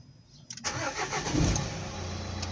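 A Nissan NV200 van's diesel engine cranks and catches, then settles into a steady, loud diesel rumble at idle close by.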